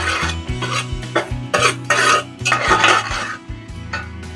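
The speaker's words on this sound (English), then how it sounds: "Gonna stir a little bit." A spoon scrapes and clanks against a pot while garlic is stirred for chicken soup, a series of close, loud metallic knocks and scrapes in an uneven rhythm.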